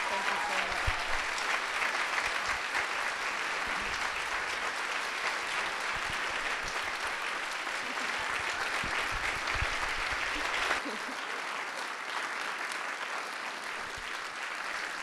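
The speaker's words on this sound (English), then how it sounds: "Let's give them another round of applause." Sustained audience applause at a First Lady's youth arts and humanities awards ceremony, dense clapping from a large crowd lasting throughout and dropping slightly in level near the end.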